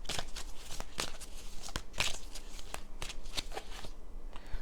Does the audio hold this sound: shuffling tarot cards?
yes